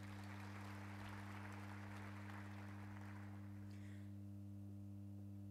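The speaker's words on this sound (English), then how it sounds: "Please a round of applause for the entire panel." Attendees at a conference session clap for the panel, a faint, diffuse round of applause over a steady electrical hum that fades out near the end, leaving only the hum.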